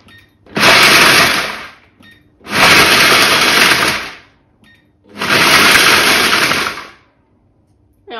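A Kenwood Cooking Chef food processor pulses pistachios and hazelnuts in three loud, even bursts of about one and a half seconds each, with short quiet gaps between them.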